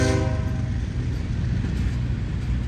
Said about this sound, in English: The crossings of Folkston, Georgia are guaranteed horn zones.